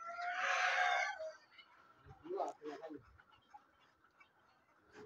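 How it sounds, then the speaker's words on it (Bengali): Chickens kept on a small poultry farm abroad, with a loud burst of hen squawking and clucking up front, then fainter scattered clucks and rustling. "এই যে টাকি মুরগি আছে এখানে"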